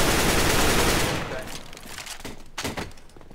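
Rapid automatic gunfire in CS:GO rattles loud and dense for about a second, then gives way to scattered shots and thuds, with a voice talking over it.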